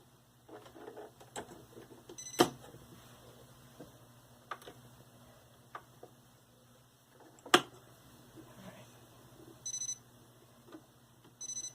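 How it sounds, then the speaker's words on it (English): Sharp clicks sound as thread seats into the first thread guide of an Elna 860 embroidery sewing machine, a few isolated snaps over a quiet hum with faint handling noises between them. "Make sure you hear that click when you put it in that first thread guide."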